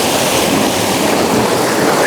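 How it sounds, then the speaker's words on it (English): Ocean water surging and rushing on a Big Island coastline, flowing toward a drain, a loud, steady broadband wash with wind buffeting the microphone throughout, no talk. "now all the water flow is starting to gather around this area"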